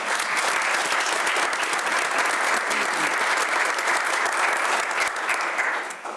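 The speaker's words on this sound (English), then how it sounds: "that deserves a round of applause" A room at a village board meeting breaks into sustained applause, dense and even, fading slightly at the close.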